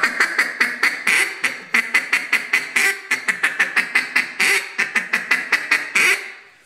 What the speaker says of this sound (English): So it sounds like kind of like a little off-cantered quack.